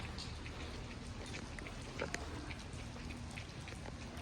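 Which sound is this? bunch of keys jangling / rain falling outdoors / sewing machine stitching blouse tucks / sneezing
rain falling outdoors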